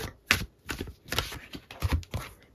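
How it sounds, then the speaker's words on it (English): A deck of tarot cards is shuffled by hand in quick, close bursts of riffling and flapping, about five rustling pulses over a couple of seconds with no talking. "I'm going to give him a quick shuffle"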